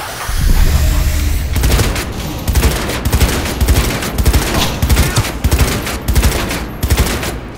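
Gunfire in the Cyberpunk 2077 video game during a boss fight, loud rapid bursts of shots in uneven clusters after a rumbling opening, close and dominant.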